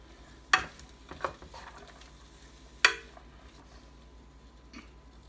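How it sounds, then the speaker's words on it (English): Shrimp stir-fry in a pan with a faint background sizzle, punctuated by a few sharp clanks and scrapes of a utensil against the pan, the loudest two spaced about two seconds apart. "We'll just stir a little more."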